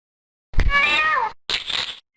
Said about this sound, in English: like kicking a cat through a window